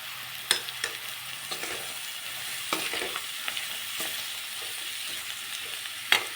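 Vegetables frying in a pan with garlic-ginger paste for home-made veg fried rice, a steady sizzle broken by sharp scrapes and clacks of a spatula stirring, close and without talk.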